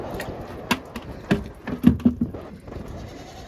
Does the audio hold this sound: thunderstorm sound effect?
no